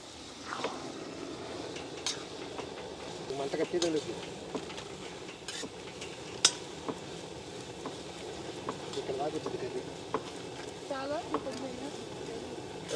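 Butter chicken being cooked outdoors at a campsite: a spoon stirs and scrapes in a pan, with scattered metallic clinks of utensils and a faint sizzle, while voices chatter nearby.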